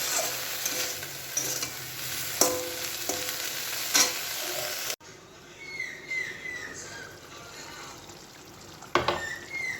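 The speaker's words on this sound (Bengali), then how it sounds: "মাথাগুলো ভালো করে ভেজে নিই চিংড়ি মাছে" Prawn heads fry in a pan at home, producing a steady sizzle with a few spoon scrapes that stops abruptly midway, after which only quiet background noise and faint clatter remain.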